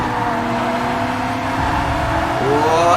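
Race cars in TOCA Race Driver 3 during a DTM series race, engines droning steadily and loud with several cars bunched close together, a higher engine note rising near the end.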